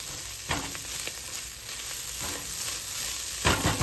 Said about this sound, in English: I'm gonna stir that in.